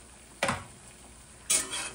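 An egg cooks over low heat in a restored 100-year-old Wagner cast iron skillet, with two short, close bursts of sizzling and scraping between quiet stretches.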